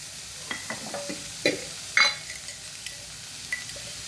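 Soya chunks fry quietly in a pan while being stirred, giving scattered scrapes and light metallic clinks over a soft, steady sizzle.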